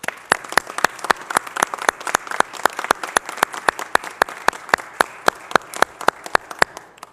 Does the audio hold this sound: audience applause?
yes